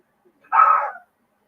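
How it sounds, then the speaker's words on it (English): A single sharp dog bark rings out nearby, loud and brief, with silence before and after. "that Ozzy's barking"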